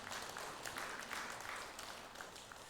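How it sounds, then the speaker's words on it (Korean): Congregation at a Sunday church worship service applauding, a steady wash of many hands clapping at a low, fairly distant level, no voices standing out. "우리 한번 박수 한번 보내주시기 바랍니다."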